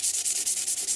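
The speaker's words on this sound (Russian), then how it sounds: "Возьмем сначала грубую наждачку." Coarse sandpaper is rubbed over a knife blade in quick, even strokes, about nine rasping passes in a second, close and alone.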